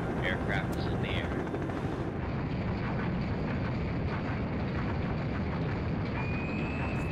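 A naval helicopter launching from a ship in a video game makes a steady dense rotor and engine drone, with short chirping game cues over the first couple of seconds.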